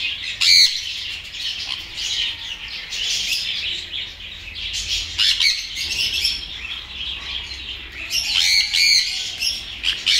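A rainbow lorikeet squawks repeatedly at Garuda bird park in Pondicherry, close and loud. Harsh, shrill bursts come in irregular clusters, with other chirps among them and no voices.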